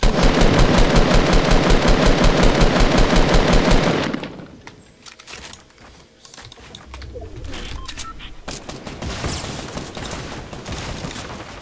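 Rapid automatic gunfire in the Fortnite video game rattles loud and close for about four seconds, then stops. Scattered shots, clatter and faint cooing sounds follow at a lower level.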